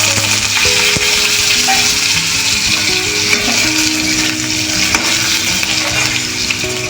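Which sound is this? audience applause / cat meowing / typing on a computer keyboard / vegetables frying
vegetables frying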